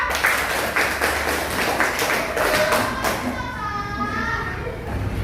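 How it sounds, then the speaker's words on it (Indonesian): A classroom of children claps for a fellow student, giving a brisk scattered patter of hand claps with some young voices mixed in, fading into room noise. "Kasih tepuk tangan untuk teman kita Sandia."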